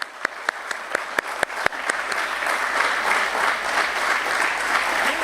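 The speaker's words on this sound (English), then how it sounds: "Can we please have a big round of applause for her?" An audience at a stock exchange listing ceremony at BSE applauds, beginning with a few distinct sharp claps that swell into dense, steady applause from a crowd.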